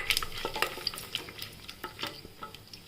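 Cloves, cinnamon, cardamom and almonds sautéing in ghee in a pressure cooker for coconut rice, giving a soft sizzle under the scrape and clink of a stirring spoon.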